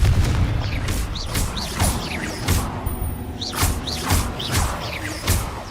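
In Hogwarts Legacy, the fiery Confringo blast spell goes off repeatedly in heavy booming bursts, loud and close over a dense rumbling battle backdrop.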